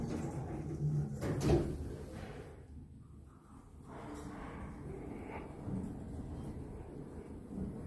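A 2013 OTIS lift door at the Taurus Shopping Center in Ankara slides open with a low thud and a soft rolling rumble in a quiet, echoing space, with no talking.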